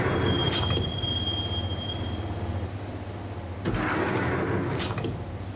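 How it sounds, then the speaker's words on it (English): Train rolling into an underground station in the game Max Payne, with a loud steady rumble of the rails, a thin wheel squeal early on and a second swell of screeching metal near the end; no one speaks. "the train doors had already shut behind me, and I was in for the ride"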